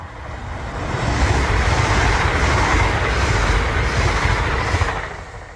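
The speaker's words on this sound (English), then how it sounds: "I think I've lost count of how many trains have come through here, Craig, while we've been studying" A train passes on a busy railway line, a loud, close rumbling roar that swells within the first second, holds steady with faint rhythmic wheel clatter, then begins to ease toward the end.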